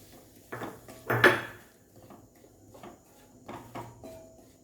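Semolina poured into a preheated pan on low flame while making khaja karanji, with clinking metal utensils and a spoon scraping against the pan in a few separate bursts, near and moderately loud.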